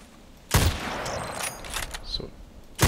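Gunfire from the online shooter Contract Wars: a loud, sharp shot bursts in, followed by a rolling, noisy tail of further fire, then another close, loud blast at the end.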